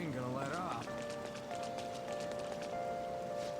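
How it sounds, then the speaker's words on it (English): Steady rain patters as an even hiss in the Persona 5 video game, with sustained musical tones layered over the downpour throughout. "When's the rain gonna let up?"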